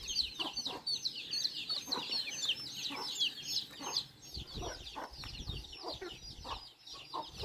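Hens cluck and chatter continuously at close range, with overlapping calls from several birds and a faint rustle beneath.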